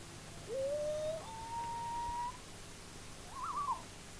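A person imitates a common loon's call with long, smooth whistled wails, two sustained tones followed by a short wavering yodel, moderately loud and alone.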